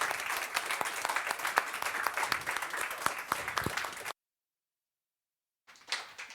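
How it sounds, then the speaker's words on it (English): An audience claps in steady, dense applause for about four seconds at a live speedrunning event, then cuts to silence before a brief burst of clapping resumes. "So, final applause."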